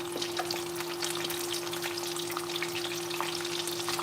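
Fish frying in a pan for escovitch, a steady dense sizzle with crackling pops throughout and a constant hum underneath, close and fairly quiet.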